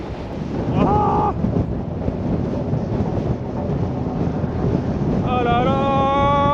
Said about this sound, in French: mais toujours plus de vent